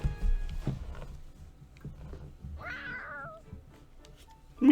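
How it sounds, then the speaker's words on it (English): A cat in the video game Fire Emblem Three Hopes gives a clear, drawn-out meow, loud and alone over a low game background. "Oh, it's a cat. Looks like something spooked it."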